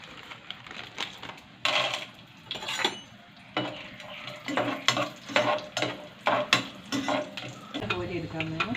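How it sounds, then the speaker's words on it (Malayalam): Raisins fry in hot ghee while being stirred, with repeated scraping strokes of a spoon against the pan in an uneven rhythm over a soft, continuous sizzle. "മുന്തിരിങ്ങ വറുത്തെടുക്കാം നമുക്ക്."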